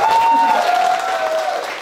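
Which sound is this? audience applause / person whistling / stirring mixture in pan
audience applause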